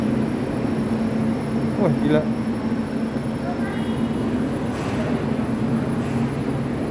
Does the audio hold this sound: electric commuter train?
yes